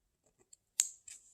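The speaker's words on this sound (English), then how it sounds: "take your scissors and go into your stocking, and right above where the cuff is connected to the foot" Scissors clip into the seam allowance of a sewn stocking, giving a couple of quiet snips near the microphone after soft taps, with no talking.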